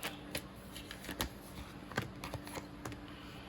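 Tarot cards are shuffled up close, giving a steady papery riffle of quick flicks and slaps with a few louder snaps, and no one speaks.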